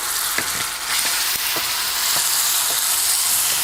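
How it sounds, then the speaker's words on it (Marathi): Tomato pulp sautés in spice masala in a hot pan with a loud, continuous sizzle, broken by a few soft stirring scrapes, close up and without talking. "इकडं आपण हे टमॅटोचं आतलं सगळं बी वगैरे काम घेत होतं ना गाभा वगैरे ते घालायचं आपल्याला आणि चांगलंसं आपल्याला हे परतून घ्यायचं"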